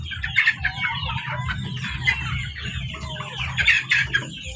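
Chickens cluck busily in a farmyard, a steady low chatter of close clucks and murmurs with a few louder calls standing out, continuous throughout and no distinct rooster crow.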